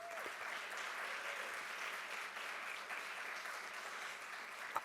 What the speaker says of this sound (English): I'd like to give a big round of applause for all of those people